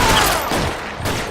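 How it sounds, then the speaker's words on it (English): A gunshot in the video game L.A. Noire, a dense, loud burst of fire filling most of a short moment with a few overlapping cracks and no talk. "I shot you in the eye"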